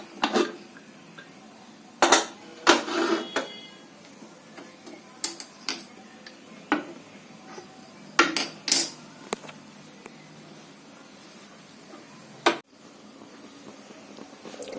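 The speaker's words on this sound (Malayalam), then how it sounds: "ഇനി കുക്കർ ഒന്ന് തുറക്കാം." A pressure cooker of rice porridge being opened in a kitchen, a sparse series of sharp metallic clanks and clicks of lid and vessel, close and intermittent over a quiet background.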